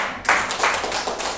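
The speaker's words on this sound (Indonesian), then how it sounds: "Tepuk tangan." A few seconds of scattered hand clapping from a small audience at an educational session on positive culture. The claps are individual and uneven, a handful of distinct bursts rather than a full roar.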